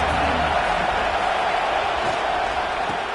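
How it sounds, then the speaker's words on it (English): Dense roar of a football stadium crowd at an LSU game against the Wolfpack, a loud, steady wash of cheering and noise with no breaks. "This crowd going to try to make life miserable for these guys"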